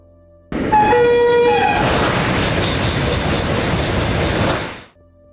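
A TGV Euroduplex 2N2 double-decker high-speed train on the Côte d'Azur line rushes past with a loud, sustained roar, its horn sounding briefly at the start before the noise fades out abruptly.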